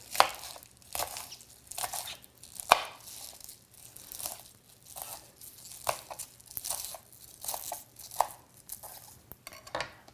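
Kale is sliced thinly with a knife, giving a series of crisp, evenly spaced chopping thuds and leafy crunches on a board, close and fairly quiet, with no talking.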